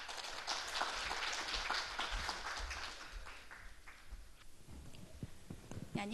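An audience applauds a presenter at a railway accident-risk prediction talk: a continuous patter of many hands clapping at moderate volume that slowly thins out over several seconds.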